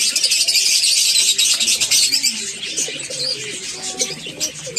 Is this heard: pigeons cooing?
yes